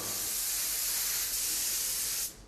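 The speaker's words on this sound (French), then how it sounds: "on va venir pulvériser du beurre de cacao et du chocolat avec un pistolet" Spray gun pulverizing cocoa butter and chocolate onto frozen Christmas baubles, a steady, bright hiss held for about two seconds before cutting off abruptly.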